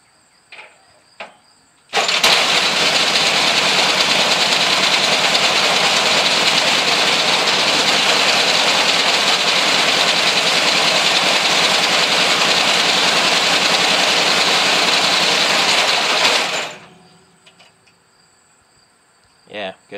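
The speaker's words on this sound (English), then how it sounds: "So a good running engine all in all." A homemade three-cylinder engine starts almost at once and runs steadily for about fifteen seconds, loud and close, as a dense buzzing roar that then cuts off sharply, with faint clicks before and after.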